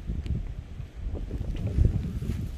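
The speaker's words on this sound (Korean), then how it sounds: "바람 엄청 붑니다" Strong wind gusting across a mountainside while descending toward a village, a steady broadband roar with low buffeting surges, loud and close at the microphone.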